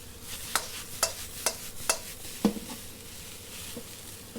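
Vegan egg fried rice is stirred in a hot pan, with a spatula scraping and tossing the rice in about five evenly spaced strokes over a steady background sizzle, close and clear with no talking.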